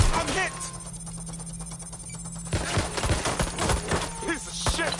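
Rapid bursts of gunfire crack through a Watch Dogs firefight, loud and repeated over a constant low hum, with shouting voices mixed in among the shots.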